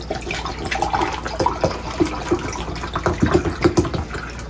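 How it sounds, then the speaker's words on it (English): Water poured into a measuring cup, a steady close splashing and gurgling stream that runs for several seconds with no talk. "So I'm just gonna pour it inside this measuring cup just to make sure."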